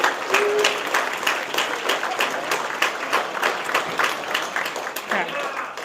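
Sustained audience applause at the DistrictCon 2025 closing session, dense rapid clapping from a room full of conference attendees, steady and fairly loud throughout with occasional cheers mixed in.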